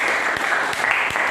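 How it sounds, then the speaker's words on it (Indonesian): Classmates give a short, lively round of applause for group 2 after their presentation in a classroom. Individual claps stand out within the dense, even clapping, which runs steadily without any voices. "Kasih tepuk tangan buat kelompok 2."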